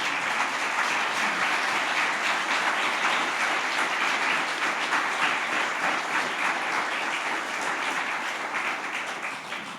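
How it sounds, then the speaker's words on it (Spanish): A church congregation applauds together, sustained dense clapping from many hands that stays loud and even for nearly ten seconds before easing slightly at the end. "Dale un aplauso al Señor."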